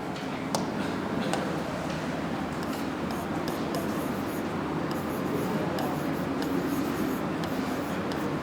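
Chalk or marker strokes on a classroom board during a Hindi electronics lecture on diodes, a steady scratchy scrawl running throughout with sharp ticks at pen strokes, fairly close and alone.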